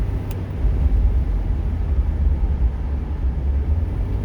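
Deep, steady rumble from inside a moving Toyota car with a failing transmission. A heavy low drone and road noise continue throughout at a fairly loud, even level.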